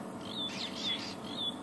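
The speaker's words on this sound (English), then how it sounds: "you can hear the drongos going crazy all around him" Drongos call agitatedly around a giant eagle owl in the African bush at sunset, giving faint, brief whistled chirps against quiet background ambience.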